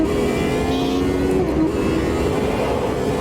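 Classic Formula race car screaming through the Monaco tunnel in Automobilista 2, a loud close engine wail that holds steady with a slight dip in pitch, no talking over it.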